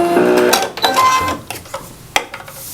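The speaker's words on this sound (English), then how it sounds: "then I'm going to fold this on top of itself and then just sew all the way down" A sewing machine stitches down folded denim tie pieces in a few short runs, whirring close and fairly loud, then pausing with light clicks and handling noises.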